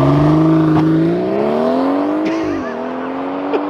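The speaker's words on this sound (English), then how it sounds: "so we've done launch control from the inside" BMW X3 M40i doing a launch control start, heard from outside: a loud engine note rising steadily through the revs with a brief dip at a gear change, then continuing to pull.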